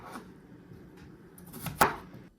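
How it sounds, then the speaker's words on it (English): A knife chops potatoes on a cutting board for mashed potatoes, with soft, faint cuts and then one sharp, louder chop near the end, heard close up with no talking. "Start by peeling and chopping potatoes."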